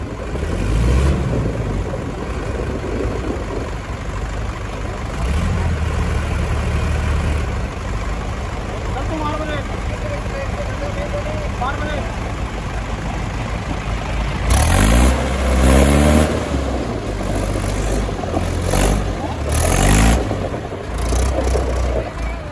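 Two Mahindra Arjun tractors, a 555 and a 575 XP Plus, pulling against each other in a tug-of-war at a stone crusher, with their engines droning loudly and steadily, then surging in heavy revs toward the end.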